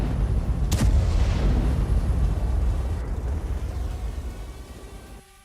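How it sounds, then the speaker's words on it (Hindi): Explosions from a Ukrainian strike on a Russian weapons depot roll out as heavy, continuous deep rumbling booms with a sharp crack near the start, loud and sustained before fading away at the end. "दोनों तरफ से एक दूसरे पर बारूद बरसाया जा रहा है।"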